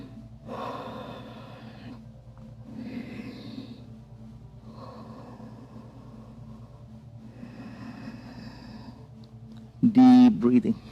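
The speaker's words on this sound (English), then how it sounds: "Deep breathing." Deep, audible yoga breathing repeats in slow, even inhale-exhale cycles, close to the mic, with a loud sharp sound bursting in near the end.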